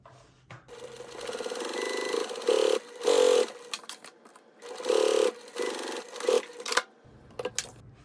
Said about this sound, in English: you're going to take it to the machine and you're going to sew along this edge here